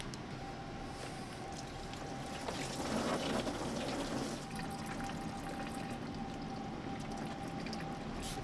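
Coolant from a leaking BMW X5 drains into a catch pan, a steady quiet pouring trickle of liquid that swells briefly in the middle, with no talk.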